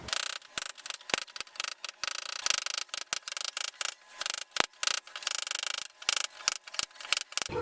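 Adhesive being scraped out from under a removed tile, a steady run of close, dry rasping strokes in quick irregular bursts with short pauses between, no voices over it.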